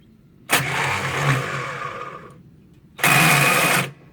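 A 1937 Willys flathead engine with a sticking choke, long left sitting in the woods, cranks and catches in one rough two-second burst, falls quiet, then roars up again in a second short, loud burst.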